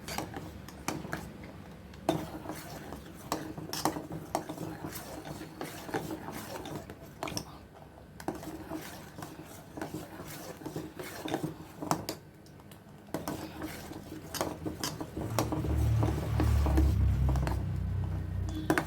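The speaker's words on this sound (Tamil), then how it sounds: "இது கைவிடாமல் கிண்டணுங்க, கட்டி ஆகிக்கிட்டே வரும்." Fruit custard is stirred in a pan with a spoon, making a continuous scraping and rubbing with soft clinks that come and go, fairly close, ending in a louder low rumble.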